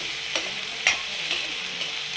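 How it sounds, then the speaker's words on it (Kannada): Garlic frying in a pan, a soft steady sizzle with a few light stirring scrapes and taps, quiet and close with no talking. "ಇದೆಲ್ಲ ನೀಟಾಗಿ ಬೆಳ್ಳುಳ್ಳಿ ಸ್ಮೆಲ್ ಬರ್ತಾ ಇದೆ. ನೀಟಾಗಿ ಫ್ರೈ ಮಾಡ್ಕೋಬೇಕು."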